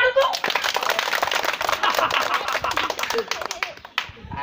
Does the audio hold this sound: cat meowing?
no